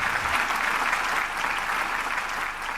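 Audience applause for panel members at an IPTV panel discussion, a steady dense wash of clapping that holds at an even level throughout and eases slightly at the end.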